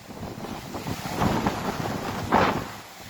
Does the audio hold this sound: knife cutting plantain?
no